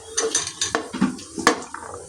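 Cauliflower, carrot, capsicum, beans and potato tumble into a pot of cooked onion for vegetable pulao, giving a rapid run of close clatters, knocks and scrapes against the metal, with no talk.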